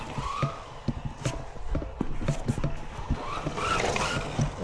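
A vintage AYK Cyclone RS 401 RC car drives at speed with a thin, buzzing motor whine and scattered clicks and knocks from its chassis, fairly faint and moderately close, with no talking.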